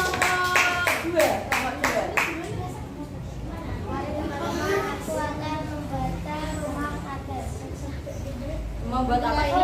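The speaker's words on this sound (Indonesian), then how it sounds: "Oke, kasih aplaus." A classroom of students claps for a presenting group, a burst of scattered hand claps at the start that fades quickly as a teacher's voice takes over and continues talking.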